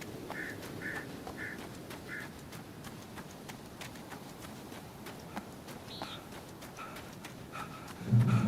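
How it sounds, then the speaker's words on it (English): Birds in the video game Alan Wake, with a few short chirps repeating at a steady pace early on and a couple more calls later, all heard over a low ambient game background. "Birds."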